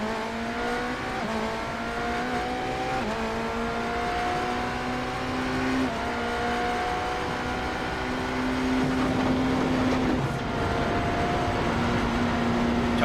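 GT3 race car engines at Spa-Francorchamps in a racing sim, loud and continuous, with several cars revving and shifting through rising and falling pitches, gear changes clearly audible throughout.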